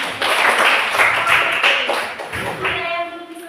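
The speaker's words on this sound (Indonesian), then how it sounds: "Tepuk tangan" A group of people, likely children in a classroom, clap their hands in a brief burst of applause, fairly close, with voices speaking over and around it.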